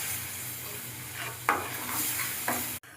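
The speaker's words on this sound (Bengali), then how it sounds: "এবার টমাটোর পেস্টটা দিয়ে দিচ্ছি। খুব সুন্দর করে ভাজতে হবে।" Tomato paste with turmeric and spices frying in a pan, a dense continuous sizzle with a couple of sharper spatters and scrapes as it is stirred, cutting off abruptly near the end.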